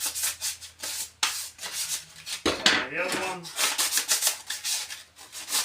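Light hand sanding of disassembled plastic Nerf blaster parts before spray painting, a steady rasping rub in repeated short strokes, close and fairly loud, with a brief spoken remark partway through.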